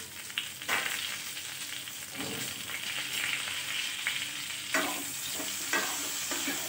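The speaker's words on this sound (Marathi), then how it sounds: "ते सुद्धा छान तेलामध्ये परते." Stuffed okra (bharli bhindi) with leftover masala frying in hot oil, a steady bright sizzle throughout with occasional stirring scrapes, close and continuous with no voices.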